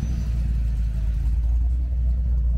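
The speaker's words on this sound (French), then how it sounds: "Allez, écoutez ce magnifique V8 là," A Ford Mustang V8 engine throbs steadily at close range at a historic rally, a deep, rumbling, low heavy growl with no voices over it.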